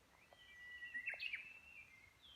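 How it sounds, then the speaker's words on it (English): Birds sing in foggy, drizzly countryside in Japan, a few faint, distant whistled calls rising and falling over a quiet background hush. "The birds are singing."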